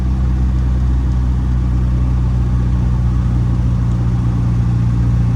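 A 1960 MGA roadster's four-speed engine runs steadily while driving on neighborhood streets, a constant low drone with road noise and no voices.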